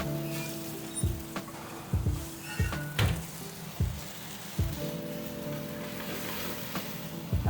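Pernod liqueur sizzles steadily in a hot pan beside seared salmon as it reduces, with a constant frying hiss punctuated by regular clanks and scrapes of a utensil against the pan, close and moderately loud.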